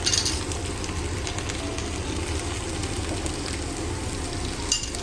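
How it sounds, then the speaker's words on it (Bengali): Chopped onion frying with ginger-garlic paste and green chili paste in a pan for mutton curry, a steady soft sizzle and crackle that holds evenly throughout, with a faint clink near the end. "এই পেঁয়াজটাকে এই রসুন বাটার সঙ্গে ভালোভাবে মিক্স করতে হবে এবং ততক্ষণ করতে হবে এটাকে একটু ফ্রাই"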